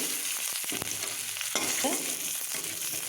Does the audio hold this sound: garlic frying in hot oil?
yes